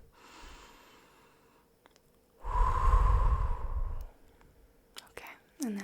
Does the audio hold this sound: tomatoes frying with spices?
no